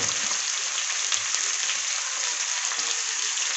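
Taro stolons frying and being stirred in a pan with reddened onion, a steady dense sizzle throughout with faint low scraping, close and fairly loud with no talk.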